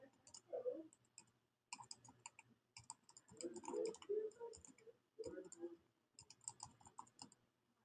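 A computer keyboard being typed on to enter a web address, quiet irregular bursts of clicking keys with short pauses between groups.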